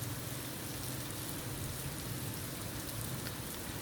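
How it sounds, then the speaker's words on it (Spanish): Steady rain falls in an even, dense patter and hiss at low volume throughout, with no voices. "la lluvia desigual, por momentos exigua, a ratos abundante,"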